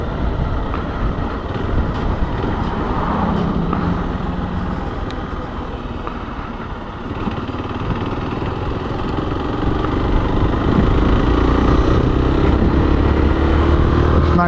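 Zontes ZT310X motorcycle engine chugging steadily throughout a ride, a loud, continuous low rumble with wind noise and a slight rise in intensity near the end.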